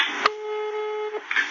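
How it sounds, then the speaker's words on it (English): Phone ringing indoors during a radio conversation in Liberia: a single steady electronic ring tone held for about a second, fairly close and clear, with brief voices and noise before and after. "That's the phone ringing."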